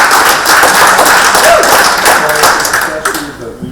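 Clapping from an audience at a town planning board meeting rings out loud and close, a brisk patter of many hands over murmuring voices before it thins at the end.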